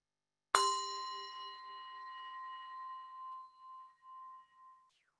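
A single bell is struck once during a sermon, giving a clear, bright ring that hangs and slowly fades over several seconds in an otherwise silent room.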